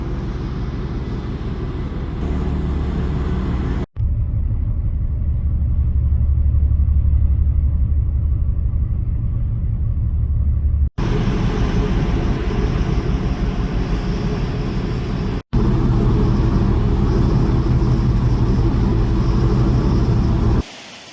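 Boat under way around Orkney, a heavy continuous engine rumble with wind buffeting the microphone, broken by abrupt cuts between several loud sections.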